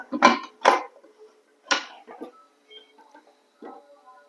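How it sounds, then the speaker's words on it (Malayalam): Stainless pot on a home kitchen stove gets covered with its lid, giving a few sharp metallic clanks near the start and another about midway, followed by faint scattered kitchen clatter. "ഞാനിതൊന്ന് അടച്ചു വെക്കുന്നുണ്ട്."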